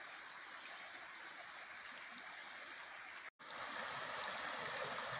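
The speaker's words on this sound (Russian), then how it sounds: "Журчит ручей, поет ручей." A babbling brook in Mariánské Lázně, Czechia, in June: steady, close rushing and gurgling water fills the whole span, broken only by a split-second dropout near the end.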